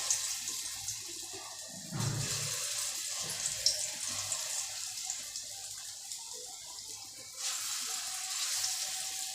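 Vegetables fry in oil in a pan for a Bengali-style dish, giving a continuous close hiss and sizzle that swells louder in a few stretches.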